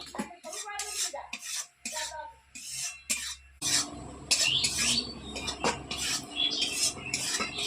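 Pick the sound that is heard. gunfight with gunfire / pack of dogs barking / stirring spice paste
stirring spice paste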